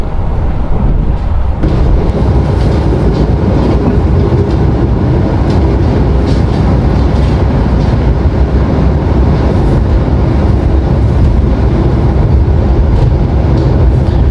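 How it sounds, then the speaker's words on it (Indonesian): The Purwojaya train runs straight through Manggarai station in central Jakarta, a loud, sustained rumble and rattle of rail cars with wind noise, heard close from on board without voices. "Kereta api Purwojaya melintas langsung stasiun Manggarai, Jakarta Pusat"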